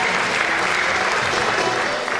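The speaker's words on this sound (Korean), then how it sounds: "여러분 축하의 큰 박수를 보내주시기 바랍니다." Dense, steady applause from an audience at a festival award ceremony for married couples, loud and continuous throughout.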